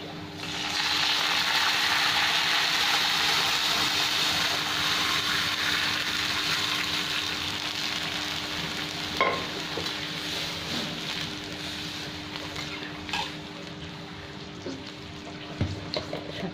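Red lentils added to onions already fried in a hot pan give a steady, close sizzle and crackle that slowly settles, with a few light utensil taps near the end.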